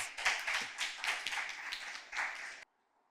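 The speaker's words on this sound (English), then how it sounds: "Please give him a round of applause." An audience claps for a speaker at an inter-secondary school debate. The applause comes in uneven surges over more than two seconds, then stops abruptly, leaving near silence.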